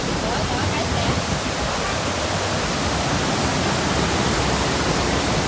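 Elephant Falls waterfall in Da Lat, Vietnam, roars as a steady, loud broadband rush of falling water, filling the whole stretch without a break.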